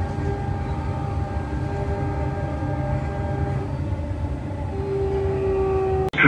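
Steady rumble and hum of a metro train running between stations toward Airport Terminal 3 near the Expo 2020 line, a continuous loud drone with a rising whine near the end and a brief clunk at the finish.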